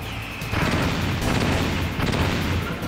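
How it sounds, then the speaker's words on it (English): A barrel exploding in the Metal Gear Solid video game, with loud booming blasts and crashing bursts that recur across the moment, dense and close, with no talk. "Remember, the barrels have a larger explosion radius than the missiles."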